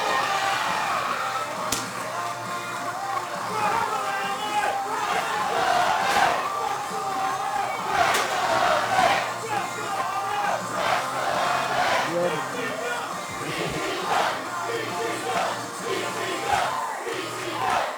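Wrestling fans at a BTW Battleground show in Bolton chant and cheer in a packed hall, a dense rolling crowd roar with rhythmic swells, shouts and whoops rising and falling under occasional voices.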